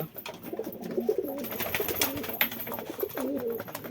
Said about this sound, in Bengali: এখানে কিছু ম্যাড্রাস পায়রা আছে, ফুল হোয়াইট